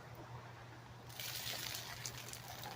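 Water trickles and patters out of a strainer while straining dinner at a stealth campsite, a soft steady splashing close by over a low hum.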